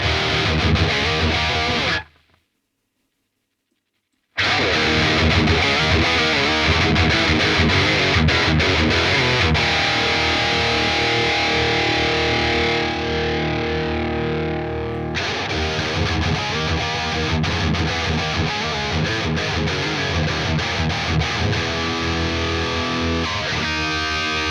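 A distorted electric guitar played through an amp and compared on Mesa Boogie and Bogner cabinet impulse responses, with sustained chords and riffs. A brief silent gap comes early, then steady, loud playing continues.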